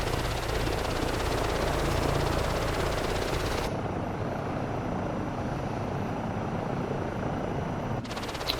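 Helicopter flying in Microsoft Flight Simulator 2024 on PS5 near Edinburgh Airport, a loud steady rotor and engine drone throughout that shifts to a thinner, muffled tone partway, with no talk.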